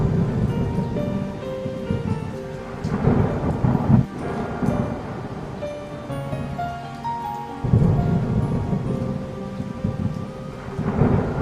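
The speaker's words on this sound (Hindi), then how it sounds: "बारिश बहुत तेज है, मुझे नहीं लगता ये छत अब ज्यादा देर तक टिक पाएगी।" Heavy rain pours down steadily as thunder rolls and cracks several times, loud and close, with no voices throughout.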